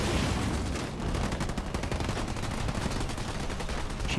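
Rapid sniper and small-arms gunfire crackles through a Halo Wars 2 2v2 battle, dense overlapping shots forming a steady loud barrage for the whole stretch.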